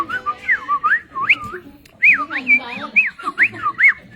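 A person whistles a trilling, swooping tune that imitates birdsong, in two short bursts separated by a brief pause, close and clear.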